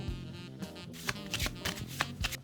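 Several quick bursts of a Magic card deck being riffled and shuffled at close range, crisp papery flutters with small clicks, over quiet background music.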